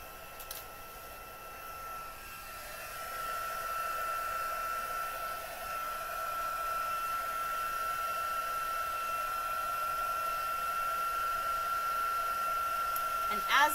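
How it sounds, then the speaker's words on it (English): A heat embossing tool blows hot air steadily onto embossing powder on a card sentiment, a continuous loud whirring hiss that runs nearly fourteen seconds with a high whine, starting softer and then holding level. "let's go ahead and heat emboss our sentiment."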